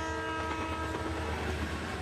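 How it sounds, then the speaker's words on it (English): A train rolls past with its horn blaring, a steady loud tonal blast layered over a rumbling rail roar, close by and unbroken, with no talking. "If you think trains will stop if they see a car on the tracks"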